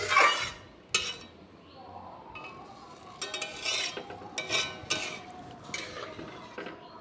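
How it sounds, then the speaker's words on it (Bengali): A spoon clinks and scrapes against a pot while moong and masoor dal is stirred with water before simmering, bursts of metallic knocks and rattles spread unevenly over a quiet kitchen background. "একটু নেড়ে চেড়ে নিলাম"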